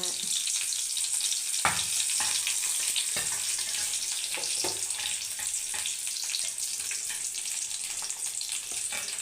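Onion and curry leaves frying in a pan for a homemade plantain stir-fry, a steady close sizzle with occasional sharp clinks and stirring scrapes throughout.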